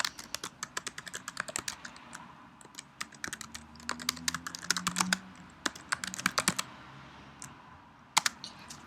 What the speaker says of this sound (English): I'm just going to type the title in.